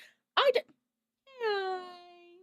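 A cat gives a short throaty chirp, then after a pause a drawn-out, falling meow, both close and clear with no talking over them.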